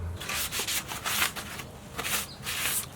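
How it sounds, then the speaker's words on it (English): A rag wipes acetone across a fiberglass boat transom during a transom replacement, giving a run of rhythmic scrubbing rubs, close and fairly loud, each stroke a short rasping burst. "So we're just cleaning the back with acetone."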